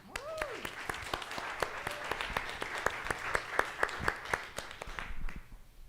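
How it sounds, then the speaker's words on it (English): A church congregation applauds during a Sunday service, scattered claps building into steady, moderate clapping with a brief voice at the start, fading slightly at the end. "I hope you'll give everyone a round of applause that's put so much effort into this"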